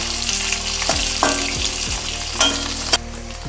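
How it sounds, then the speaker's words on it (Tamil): Onions sauté lightly in a pan for chilli parotta, a loud, steady frying hiss broken by several scraping stirs and knocks of a spoon against the pan. "வெங்காயம் நல்லா வதங்கணும்னு அவசியம் இல்லை, லைட்டாக வதங்கினா போதும்"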